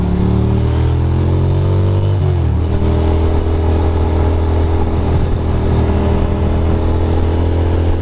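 A motorcycle engine drones steadily nearby on a Brooklyn street, its pitch dipping briefly partway through, with constant road rumble underneath and no voices.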